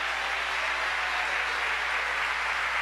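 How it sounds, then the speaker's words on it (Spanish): A church congregation at an Easter resurrection service gives loud, sustained applause, a steady wash of many clapping hands filling the room with no pause. "¿Cuándo le da un aplauso fuerte a ese Señor?"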